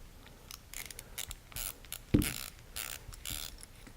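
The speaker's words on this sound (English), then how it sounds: "we are going to remove the screw and T-nut from the accessory" A screw and T-nut being loosened from a Midwest Industries M-LOK Scout accessory mount, heard as quiet close ratcheting clicks and small metallic turns in irregular bursts, with one sharper knock partway through.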